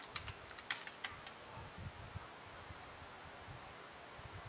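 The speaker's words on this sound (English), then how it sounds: "When prompt, key in the password." Password keys tapped on a computer keyboard while mounting a VeraCrypt volume: a quiet, brief burst of clicks near the start, then soft low rustling and background noise with no talking.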